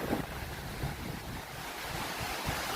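Ocean surf washes steadily onto a beach opposite a small resort in Malaysia, a continuous rushing hiss with wind buffeting the microphone throughout.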